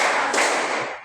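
A classroom group claps in unison during a counted clapping routine, producing a dense, loud burst of many hands with a sharper accent partway through and no speech.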